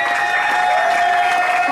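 Concert crowd applauding aboard the A38 ship venue, a brief dense wash of clapping with a lingering tonal hum from the stage, steady and fairly loud.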